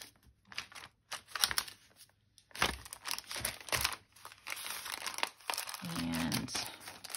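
Little paper bags in different colors being handled close up, in irregular bursts of crinkling and rustling separated by short pauses, with a brief low thump near the end.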